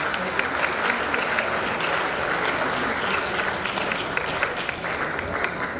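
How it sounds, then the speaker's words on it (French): Dense applause fills a hall at a 60th birthday celebration for a bishop, steady and loud throughout with a crowd's cheering mixed in. "Est-ce que vous pouvez encore acclamer pour vous-même?"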